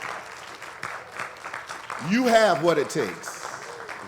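A crowd applauds at an award presentation during an anniversary event, a loose patter of clapping running beneath a speaker's voice before the talking takes over.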